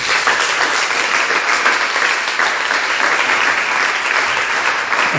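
A church congregation at a revival cell gathering in Yopougon clapping together in a loud, sustained burst of applause, dense and continuous throughout, close and enveloping.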